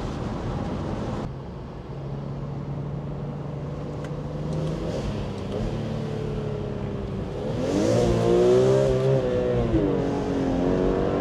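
A BMW M3 E46 on a test drive, its engine droning steadily up close, then revving higher with rising harmonic tones near the end; no talking.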